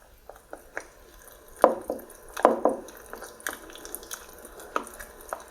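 Wet squishing and scraping of a thick henna powder and water paste being stirred, with irregular soft slaps and drips, close up and without talk.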